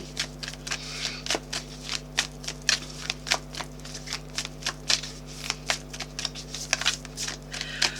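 An oracle card deck is shuffled by hand close up, giving a rapid run of crisp riffling snaps and soft flicks in an uneven rhythm over a steady low hum, with no voices.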